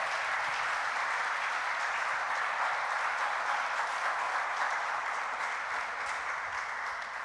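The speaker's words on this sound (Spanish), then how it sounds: "Dale un aplauso al Señor" A church congregation applauding, sustained even clapping from many hands heard at a moderate distance, a continuous wash of sound without talk.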